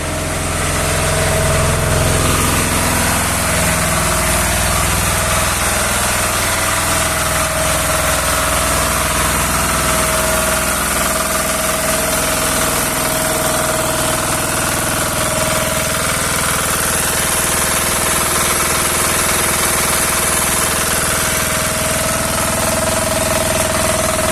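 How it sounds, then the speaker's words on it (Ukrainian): A homemade three-phase 400 V diesel generator of up to 10 kW runs loud and close, a dense, steady mechanical roar with knocking vibration that holds unchanged throughout. "Це зробив саморобний генератор."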